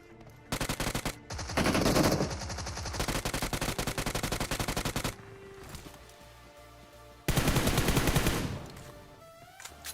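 Automatic rifle fire in the mobile battle royale game BGMI (PUBG Mobile) comes in several loud, rapid bursts separated by short pauses, with quieter game ambience in the gaps and no voices.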